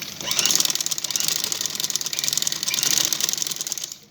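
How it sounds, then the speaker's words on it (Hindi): Sewing machine stitching piping onto a dupatta, a fast even mechanical chatter running continuously at close range before stopping near the end. "इस तरीके से आप इसको सिलाई लगाते चले जाएं।"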